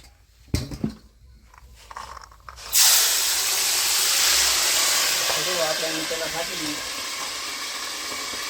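Peas for homemade salted namkeen vatana drop into hot oil after a few knocks and taps. A sudden loud, hissing sizzle erupts, then stays sustained and slowly eases off.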